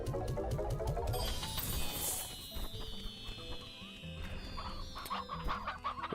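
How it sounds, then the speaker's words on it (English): Several chickens in the video game Slime Rancher cluck and squawk in overlapping bursts, mixed with game sound effects and mechanical whirring, fairly loud and busy. "That's a lot of chickens."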